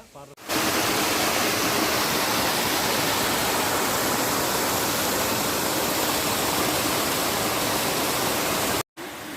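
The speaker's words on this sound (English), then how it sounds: "I'm giving you the full view of the water flow which is flowing from the top, and as it flows it gets stronger, and you can see where it falls." Water from a waterfall pours and crashes steadily as a dense, loud, continuous roar, with a brief break near the end.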